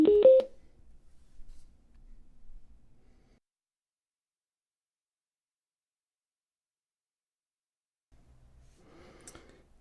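EC Technology Bluetooth speaker giving a brief tonal pairing chime at the start, then near silence, followed by a faint short electronic tone near the end.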